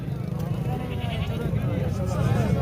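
Goats bleat amid the busy crowd noise of a goat market, with steady voices and chatter from traders and buyers running beneath the animal calls throughout.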